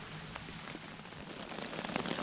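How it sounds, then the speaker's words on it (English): Steady rain falls at a campsite in Slovenia during a cycling trip, making a soft, even hiss with scattered drop patters close by and no voices. "Still raining."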